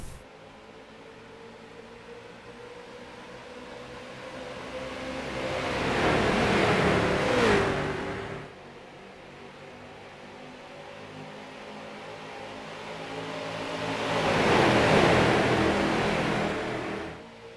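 Stock cars in an All-Star race at Charlotte in a racing video game roar past at a restart, engine noise swelling as two loud passes sweep by over a steady background drone, with no talk.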